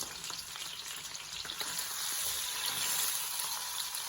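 Beef for a homemade pot roast sears in a pan with a soft, continuous hissing sizzle that swells slightly toward the end, heard close and alone.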